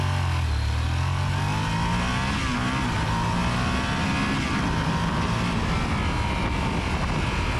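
A Yamaha Super Tenere motorcycle with a retuned ECU accelerates hard, its engine note rising steadily through the gears, loud and continuous with wind noise and no talk.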